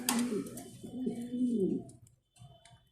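Mundiya pigeons at a farm give soft, low throaty coos in a rolling, rising-and-falling phrase, close by, with a brief pause and another faint murmur near the end.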